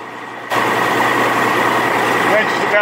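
A large engine runs steadily at roughly 1200 RPM, starting abruptly about half a second in and holding a loud, even drone with a strong low hum to the end.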